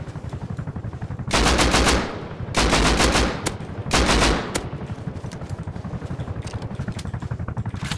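Video game gunfire rattles out in three loud sustained automatic bursts, each about half a second to a second long, over a steady background of game noise.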